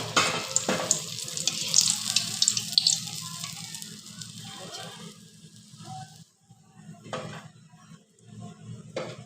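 Bhola bhetki fish pieces frying in hot oil in a home kitchen crackle and sizzle steadily, fading midway, followed by a few clinks of pan and utensils and running water.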